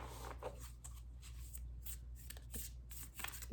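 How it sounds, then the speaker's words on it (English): A tarot deck is shuffled in a quick run of soft riffling flutters and slaps, close up, with no talking. "Let's do a quick shuffle here."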